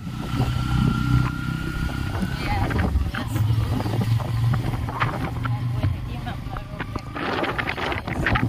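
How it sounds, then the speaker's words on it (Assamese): A motorcycle engine runs with a steady rumble and wind buffeting the microphone, while a person talks over the noise. "মই এতিয়া বাইকত উঠিম"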